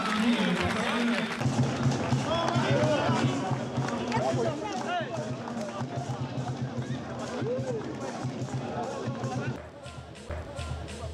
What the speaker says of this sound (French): on l'applaudit bien fort et bien sûr pour son jubilé